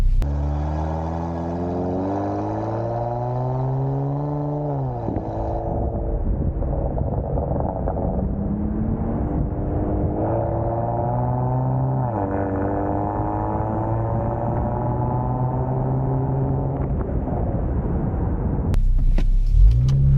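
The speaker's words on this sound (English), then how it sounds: "not sound as good compared to going all the way up to 4000 RPMs like that" A Kia Stinger engine revs up repeatedly through rising gears to about 4000 RPM, each climb in pitch followed by a drop, with wind rushing past the microphone throughout.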